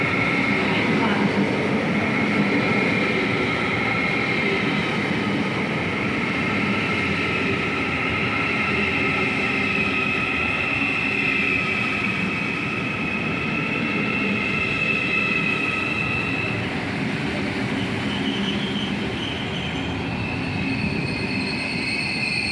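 A DB class 412 ICE train pulls into track 3 at Basel Badischer Bahnhof, a steady loud rumble of wheels on rail with drawn-out squealing tones throughout, close by and continuous.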